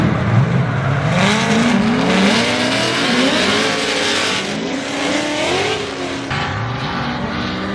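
A 500 hp Mitsubishi Evo race car drifting at night on a track, its engine roaring loud and close with repeated revving rises and falls, sustained throughout without any talk.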